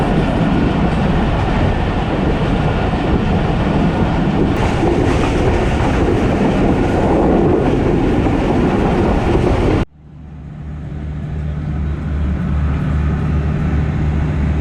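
A Pakistan Express train hauled by a GEU40 locomotive picks up speed at dusk, a loud, close, continuous rumble and wheel clatter that cuts abruptly near the end to a quieter steady hum that slowly builds again.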